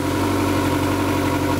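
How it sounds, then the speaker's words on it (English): A Mercury 115 FourStroke EFI outboard motor runs on flushing muffs on land during winterization, giving a steady, close idle hum with constant low throb and no voices. "I'm going to run it for about 5-10 minutes to allow the fuel stabilizer to make its way through the engine"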